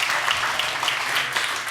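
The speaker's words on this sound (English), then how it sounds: "Let's have one big round of applause for Brian." Audience applause at a talk event, a dense wash of clapping that holds steady for a couple of seconds.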